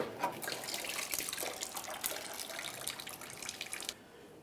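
Coolant drains from a disconnected radiator hose on a 2010-2013 Ford Transit Connect into a collection bucket, a continuous splashing trickle that stops abruptly near the end.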